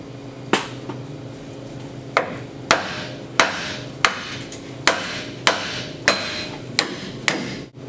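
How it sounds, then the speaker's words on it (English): Ten sharp metallic hammer blows strike a tie rod end on a Dakota's steering linkage, ringing out at a steady, slightly irregular pace, each one loud and close with a short ringing decay. "when you hit it with the hammer, it should just pop loose"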